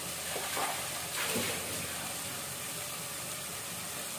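Water poured into a hot pan of chicken masala being cooked down brings a few short splashing bursts and a faint sizzle, followed by a low steady hiss.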